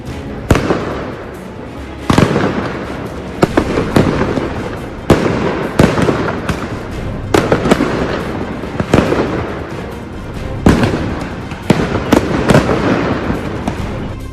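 Firecrackers set off by protesters during street clashes in Surat burst in a rapid, irregular string of loud cracks and bangs, some close and some farther off, with no voices.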